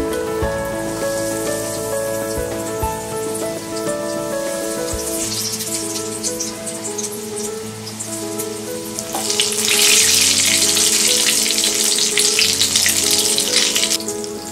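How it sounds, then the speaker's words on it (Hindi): Vegetable cutlets fry in hot oil in a kadhai over a medium flame, giving a steady crackling sizzle under background music that swells louder partway through. "अब हम ये कटलेट्स को फ्राई करेंगे। हम इसे मीडियम फ्लेम में फ्राई करेंगे।"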